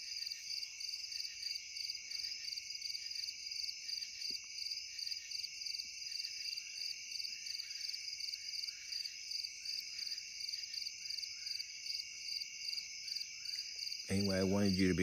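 A nighttime chorus of crickets pulses steadily around a campsite, high and unbroken, with distant frogs faintly beneath; a sudden louder noise cuts in at the very end.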